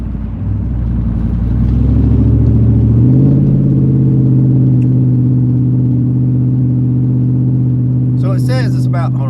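A car engine drones steadily while driving on a country road, its pitch shifting as the throttle changes, loud and close throughout, with a brief voice near the end.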